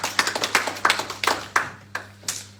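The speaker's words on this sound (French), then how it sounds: "Est-ce que nous pouvons acclamer?" A church congregation claps in a steady rhythm. The close, crisp claps repeat about every quarter second, with no talking over them.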